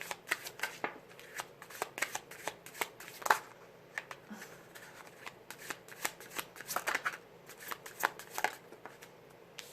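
Tarot cards being shuffled by hand, a steady run of crisp riffling and slapping bursts close up, repeating at an uneven rhythm throughout with no talking.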